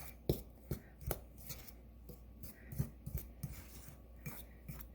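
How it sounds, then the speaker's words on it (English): A fork stirs pie crust dough in a bowl for French silk pie, producing a series of quiet, close scraping clicks at an irregular, steady rhythm with no talking. "you probably want to just use a fork. It's a little bit easier to kind of stir it together."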